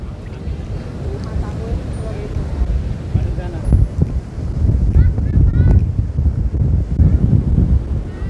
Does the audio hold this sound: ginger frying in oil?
no